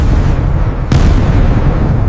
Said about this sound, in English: The explosions from the ground above continued to echo down.